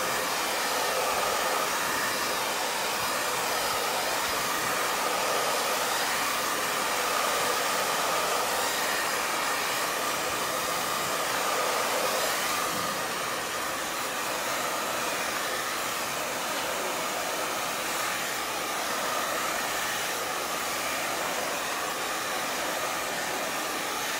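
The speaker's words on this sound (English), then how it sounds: "I'm gonna help them both along really quick with the hair dryer" A hair dryer blows continuously at close range, a loud, steady airy whoosh with no pauses, used to speed-dry water slide decals on a 30oz tumbler.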